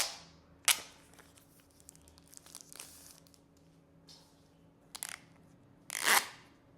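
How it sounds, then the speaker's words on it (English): Plastic protective film peeled off a starburst white Redmi Note 11 smartphone, a few sharp crinkling rips and snaps spaced through a quiet room, the last one longest and loudest. "it's time for the plastic removal sound"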